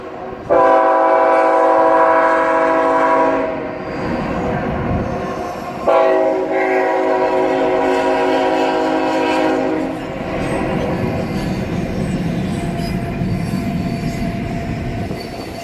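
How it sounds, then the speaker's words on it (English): A freight train rolls past loudly on a railway bridge at Harpers Ferry, its horn blaring in two long blasts over the heavy rumble and squeal of wheels on rails. "the freight train"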